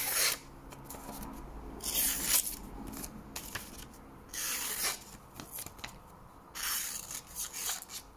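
A freshly sharpened knife cuts through a piece of paper with short, close scratchy bursts of rough slicing and tearing, separated by brief quiet pauses.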